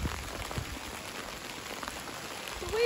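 Steady rain in Ireland patters softly on a surface nearby, a faint continuous hiss with scattered drops, rising slightly at the end.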